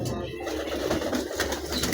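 Pigeons coo continuously over a low, steady murmur, close and moderately loud, in a bird enclosure where ducks and pigeons are kept.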